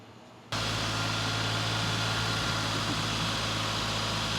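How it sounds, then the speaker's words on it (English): After a brief quiet moment, a DeLorean's engine starts idling and keeps running with a steady low hum and broadband noise, close by. "What we're doing is we're running the engine."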